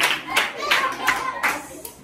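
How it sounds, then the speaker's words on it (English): Schoolchildren clap for a classmate in a short, rhythmic run of four crisp claps at close range, with faint voices in the room behind them. "Clap for her."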